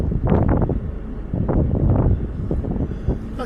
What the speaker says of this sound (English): Way too windy to fly a drone